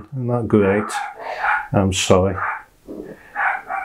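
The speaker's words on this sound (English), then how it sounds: "Oh, that's my dog going, I do apologise." Several dogs bark in the background of a home painting session, their yaps partly buried under a person's close speech.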